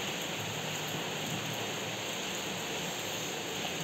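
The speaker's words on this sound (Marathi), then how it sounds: "पाऊस चालू आहे" Steady rain falls in a village during the monsoon, a constant dense hiss with no breaks, fairly loud and evenly spread, with no voices.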